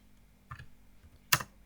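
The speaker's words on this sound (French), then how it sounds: "je crois que si je tape describe" Keys on a computer keyboard tapped while entering a MySQL describe command, heard as a few soft isolated clicks followed by one sharper, louder keystroke near the end, with no talking.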